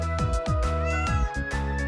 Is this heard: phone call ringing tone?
no